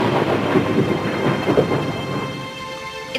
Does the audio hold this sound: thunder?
yes